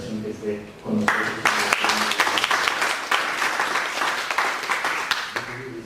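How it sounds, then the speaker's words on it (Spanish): Audience applause at a round-table academic panel, starting after a brief moment of speech, then a continuous wash of clapping that fades at the end as a voice returns. "también pido un aplauso"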